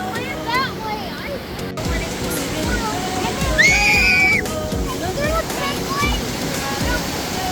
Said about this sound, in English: Here comes the wave